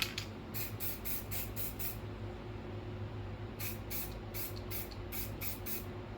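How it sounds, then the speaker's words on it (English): A spray paint can hisses out white paint in two runs of short rapid bursts, five or six quick sprays each, separated by a pause with a low steady hum underneath; close and fairly quiet. "Spray it down."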